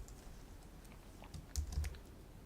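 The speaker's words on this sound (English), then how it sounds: "I keep messing up typing" Keys clack on a computer keyboard during a coding session, a quiet run of uneven taps with a brief louder cluster of keystrokes near the end.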